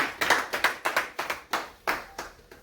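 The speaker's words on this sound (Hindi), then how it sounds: "तालियां बजा लो।" Sparse clapping from a small audience at a gathering in Udaipur, about a dozen separate sharp claps in an uneven rhythm, close and fairly quiet, with no talk.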